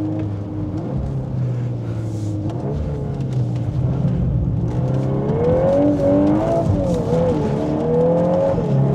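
A VW Golf 8R with its EA888 engine drifts sideways, giving a loud steady engine drone heard from inside the car that rises and falls in pitch as the throttle is worked.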